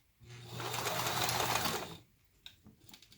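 A sewing machine stitches a zipper pouch in a short, steady, loud mechanical whir of back stitching lasting about two seconds, then stops, leaving a few light clicks and handling sounds.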